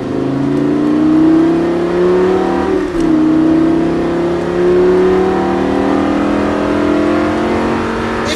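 Lamborghini Gallardo engine on a track at La Ferté-Gaucher, loud and close, pulling hard with rising revs, a brief dip as it shifts or lifts around three seconds, then climbing again steadily.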